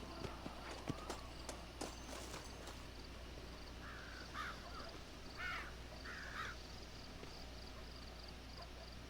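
Horse hooves clip-clopping in the Red Dead Redemption video game, a brisk run of quick hoof beats early on, followed by crows cawing over a steady outdoor ambience.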